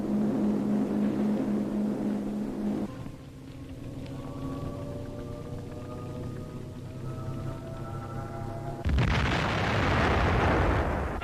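High-explosive artillery shells burst in a German training film of mountain troops attacking a village, with a loud rumbling blast, a steadier droning stretch, and another heavy explosive roar near the end.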